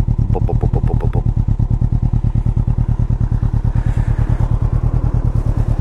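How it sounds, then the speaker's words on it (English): A Can-Am Ryker 600's twin exhaust burbles close by in a steady, rapid pulsing throb, loud and continuous with no one speaking. "Listen to that lovely twin exhaust"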